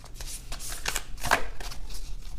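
A deck of cards is shuffled by hand in a few quick riffling bursts, close and crisp against a quiet background.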